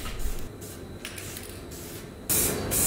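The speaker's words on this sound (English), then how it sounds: "I've sprayed two coats of the primer." Spray can applying primer coats to a headlight, short hissing bursts of aerosol spray, near and fairly quiet, with a brief pause between and a louder final burst.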